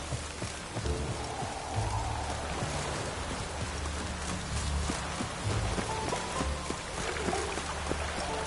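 Rain falls steadily in The Witcher 3, a soft continuous patter with faint tonal game sounds and light clatter underneath, fairly quiet with no voices.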